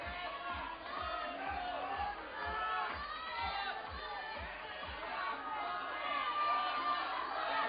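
Competition crowd at a World Cup bouldering semifinal in Vail cheering and shouting encouragement for an Australian climber, a dense, steady roar of voices with whoops and calls throughout.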